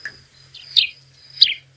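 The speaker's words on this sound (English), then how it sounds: "That is the sound that it is making up at the top there at the moment. It is a grey-headed sparrow." A grey-headed sparrow calls outdoors during an evening safari drive, giving three short bright chirps spaced about half a second apart over a low steady engine hum.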